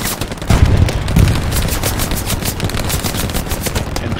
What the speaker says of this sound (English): MG's on that road again